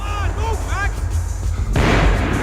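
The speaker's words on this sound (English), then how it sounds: "The bullets came from long range." Long-range gunfire in the action game Max Payne 3, a sustained loud roar with a sharp, heavy burst near the end, mixed with short tonal game sounds early on.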